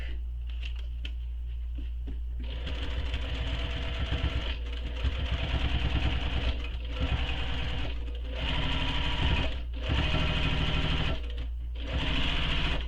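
A sewing machine stitches a decorative row on a backpack, its rapid mechanical chatter running in bursts separated by short pauses over a steady motor hum, close and clear.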